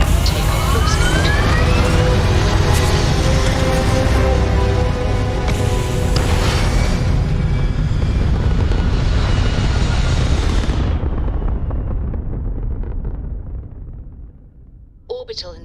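A spaceship lifts off in the video game Starfield with a loud, dense roar and rumble, rising whines and alarm-like tones, building and then fading away to near silence with a brief blip at the end.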